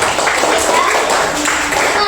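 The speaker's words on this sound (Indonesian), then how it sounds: "tepuk tangan untuk kita semua dulu" A classroom group claps together after a presentation, a busy, close burst of many hands, with voices talking over and through the clapping.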